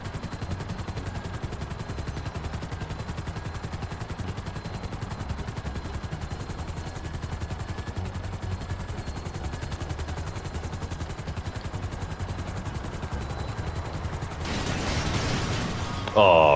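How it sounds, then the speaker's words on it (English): Helicopter in the GTA Online video game flying amid heavy gunfire, a dense continuous clatter of shots and rotor noise running throughout, swelling louder with a burst near the end. "Will this helicopter make it?"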